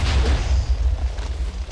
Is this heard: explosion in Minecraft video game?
yes